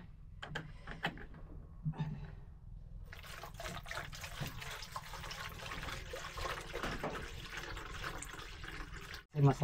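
Water rushes and splashes steadily into a cooking pot for soup, several seconds of continuous close pour with a brief clatter at the end.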